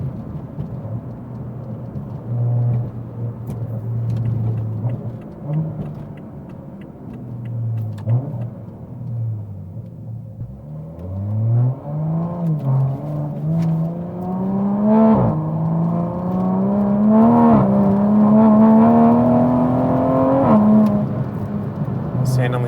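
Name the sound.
MK5 Toyota Supra driving over bumpy roads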